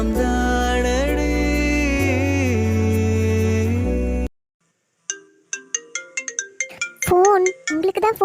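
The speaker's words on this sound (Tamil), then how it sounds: "ஃபோன் உங்களுக்கு தான் ஃபோன் வருது, அட்டென்ட் பண்ணுங்க" A phone ringtone sounds for an incoming call: a loud, steady electronic melody plays for about four seconds and cuts off, followed by silence and then scattered short sounds.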